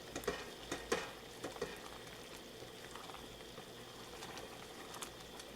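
Jam mixture at a hard boil on the stove, stirred constantly: soft bubbling and sizzling with a few sharp spoon knocks in the first seconds, then a quieter steady simmer, faint and close.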